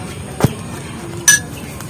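A spoon clinks twice against a bowl while hair dye paste is being mixed, two brief separate taps over faint background hiss.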